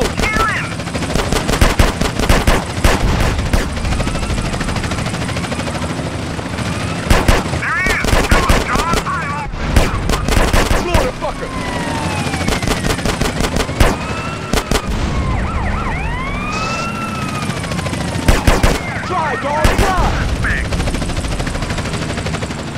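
Sustained gunfire fills a drive-by shooting in GTA San Andreas: loud, rapid bursts of automatic fire, some clustered and some scattered, over a wailing siren, with voices shouting in between.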